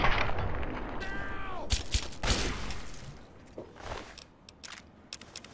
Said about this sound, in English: They hip fire their hunting rifles